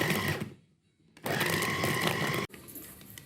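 A food processor or chopper grinding beef with spices for meatball dough, starting with a steady whirring burst, pausing briefly, then running again loud and continuous, with a sharp cut and changed tone near the end.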